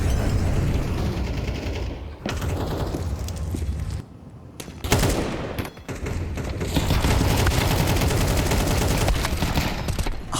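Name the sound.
pistol gunfire in a competitive video game match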